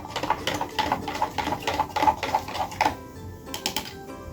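A diluted 6.25% solution mixed with tap water is stirred in a container, giving rapid rhythmic clinking and tapping that runs steadily for about three seconds, pauses, then resumes briefly.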